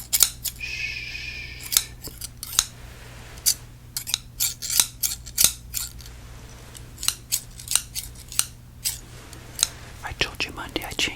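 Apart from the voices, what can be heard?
scissors snipping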